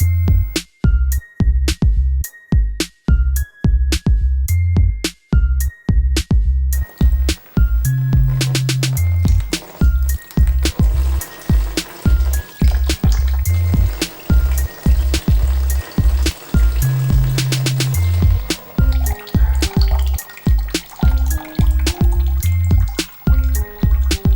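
Coolant dripping out during a drain on a Kawasaki Ninja 1000 motorcycle, a steady series of close, distinct drips with occasional trickling runs of liquid.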